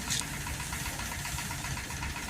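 A Yamaha RS100 motorcycle with an overheating engine runs at idle, giving a steady, close mechanical drone with a light knocking texture and no talk.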